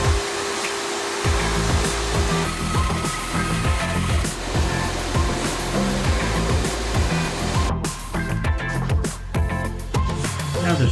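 A power tool saws through a block of tupelo wood, making a loud, continuous whining roar close by with rhythmic pulses. Near the end the sound briefly cuts out and stutters, with short bursts.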